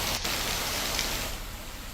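Steady rain falls in Chhattisgarh, India, a soft, even hiss of drops heard from a distance at a fairly low level, with no voices over it.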